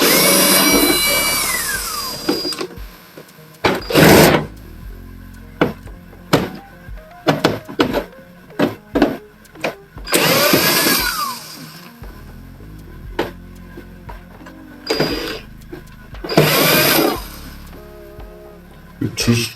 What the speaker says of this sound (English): I'm going to get the screws out.